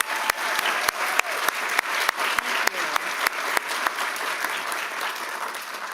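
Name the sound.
applause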